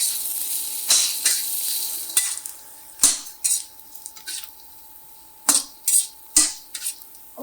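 Pork belly fries in a pan with garlic and ginger, a bright sizzle broken by repeated sharp clinks and scrapes of a utensil against the pan.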